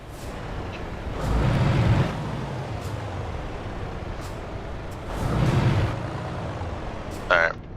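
A truck's parking brake in Euro Truck Simulator 2 releases two broad, rushing bursts of air a few seconds apart, followed by a short, sharp hiss at the end, over a steady low engine rumble.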